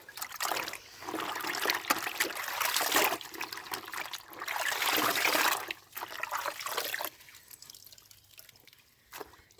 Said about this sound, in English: we're going to rinse the fabric in the cold water until it runs clear